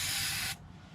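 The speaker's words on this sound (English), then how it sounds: "Just using up some of this older carb spray that I have lying around" Old carburetor cleaner is sprayed into the engine of a snowblower in one close, loud hissing burst that cuts off abruptly about halfway through, leaving quiet.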